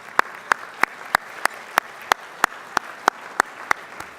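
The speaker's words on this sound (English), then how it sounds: "let's all give the 6 a great round of applause" Audience applause at a mayors' luncheon celebrating city livability in Dallas, a steady wash of clapping with a regular, sharp accented beat running throughout.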